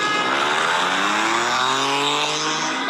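Cars at a street takeover roar through an intersection, a loud engine revving up in rising pitch over squealing, skidding tires, continuous and close.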